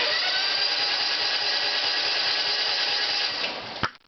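A small engine runs after a cold start with a loud, steady, high-pitched buzzing drone. It holds evenly for several seconds, then dips and cuts off abruptly with a sharp clunk near the end.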